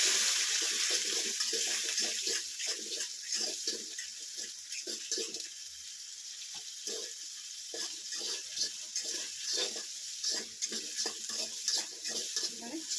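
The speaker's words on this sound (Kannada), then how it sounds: "ಒಗ್ಗರಣೆ ಮಾಡ್ಕೋಬೋದು ಚೆನ್ನಾಗಿ ಫ್ರೈ ಮಾಡಬೇಕು" Tempering spices frying in a pan for homemade wheat noodles, a faint hissing sizzle behind a run of irregular clattering stirs and scrapes, quiet and close.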